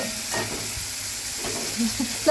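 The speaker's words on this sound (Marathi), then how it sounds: "टोमॅटो टाकला हलवून घेतला." Tomatoes fry in a pan for a homemade masala dosa, making a quiet, steady sizzle broken by a few soft scrapes of stirring near the end.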